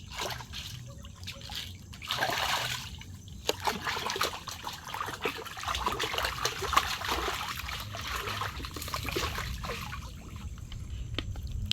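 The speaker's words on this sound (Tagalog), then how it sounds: "binabatad po niya sa tubig tabang yang net para daw po hindi daw po kalawangin" Fresh water splashes and trickles as a fishing net used for catching large mud crabs is rinsed, a continuous moderate wash of dribbling and pouring sounds close by.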